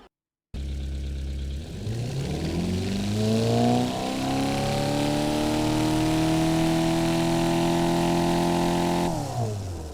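A video-game 1970s light utility vehicle engine revs up with rising pitch, holds a steady high whine for several seconds, then drops off abruptly; no talking.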